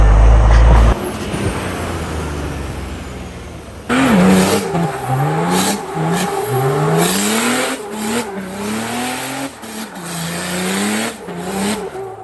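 Nissan Patrol Y61 with an OM606 diesel engine revving hard while climbing off-road, rising and falling in several loud surges after an opening burst, the revs sweeping up and down repeatedly.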